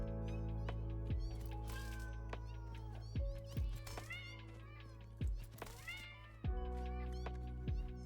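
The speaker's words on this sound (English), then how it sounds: "There we have kittens. They're coming now and go meow meow meow meow meow." Kittens meow repeatedly in Satisfactory's kitten mode, a video game, with several bright rising and falling cries over a steady low machinery hum and occasional soft thunks.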